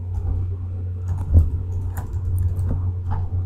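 Fingers tap out a website name and URL on a computer keyboard, producing soft, irregular key clicks over a steady low hum, fairly close and quiet.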